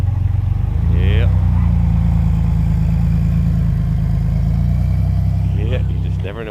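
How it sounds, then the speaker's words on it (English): A 1964 Chevrolet Corvair Monza Spider convertible with wire wheels rolls by, its loud steady engine rumble dominating a busy outdoor scene, with brief higher whines near the start and end. "you never know when a 64 Monza Spider convertible with real wire wheels is going to tootle on by"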